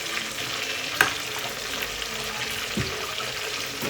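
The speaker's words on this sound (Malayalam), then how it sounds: "ഒഴിച്ചാൽ നമ്മൾ കോൺഫ്ലവർ ആഡ് ചെയ്തിട്ട് നന്നായി ഒന്ന് മിക്സ് ചെയ്ത് കൊടുക്കണം" Chicken soup thickened with cornflour is stirred in a pot, giving a soft, continuous bubbling sizzle and swishing, with a couple of brief utensil clinks against the pot.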